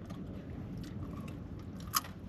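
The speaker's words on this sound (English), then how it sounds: "getting all those crunches from the veggies and the chips with the cheese" Crunchy nachos piled with chips, vegetables, cheese and black beans being chewed at a taco restaurant; soft, steady crunching sits close under a background hum, with one sharp click near the end.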